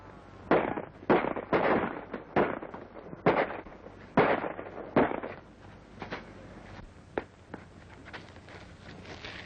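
Gunfire in an old film: a rapid volley of about ten sharp, loud shots in quick irregular succession, followed by several fainter, more scattered pops.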